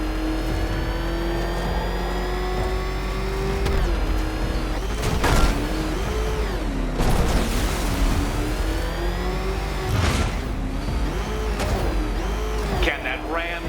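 The Batmobile engine in Batman: Arkham Knight hums and revs, its pitch swinging up and down, with sharp bursts and whooshes over the top and a voice talking at times.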